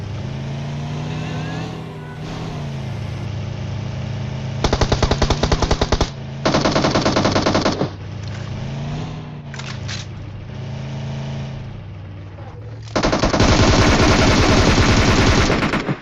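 Automatic gunfire sprays at a vehicle in a battle royale shooter, with three long rattling bursts of rapid shots over a constant droning engine, all loud and close.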